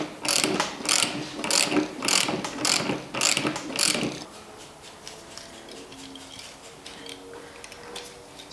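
Ratchet turning a reverse-thread nut on a BMW M52 oil pump, a rapid run of close, loud clicking strokes for about four seconds, then stopping to a quiet workshop background.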